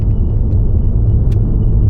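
Race car on a track day at Val de Vienne circuit, engine droning loud and steady at close range as it pulls out of a corner, with a deep continuous rumble throughout.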